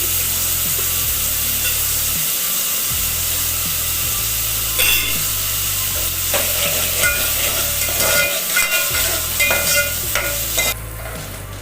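Oil sizzles steadily in a pan while cooking dal khichdi, a constant frying hiss with a few light clinks and scrapes, close and moderately loud.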